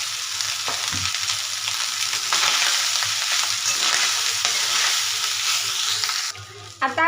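Cooked basmati rice stir-fried with cumin seeds in hot oil for jeera rice, a steady loud sizzle with scraping stirs throughout, briefly dropping near the end before resuming.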